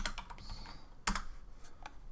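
Typing on a computer keyboard, quiet clusters of quick key clicks with one louder keystroke near the middle, close by and without talk.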